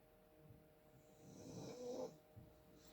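A dog snores softly nearby, one slow rumbling breath swelling and fading, faint against a quiet background hum.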